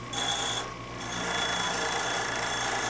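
In the survival game The Long Dark, a saw is repaired with scrap metal: a loud continuous metallic rasping and grinding with a brief dip before resuming steadily.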